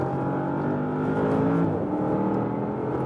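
A Porsche Panamera Turbo S E-Hybrid accelerates under throttle, its engine note a dense, steady drone that climbs in pitch and then settles, loud and close from inside the car.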